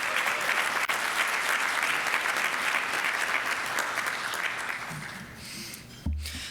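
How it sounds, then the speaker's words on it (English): An audience at a Rotary club meeting applauds two student speakers, a steady wash of many hands clapping for about five seconds before tapering off. "Let's go ahead and give them a round of applause."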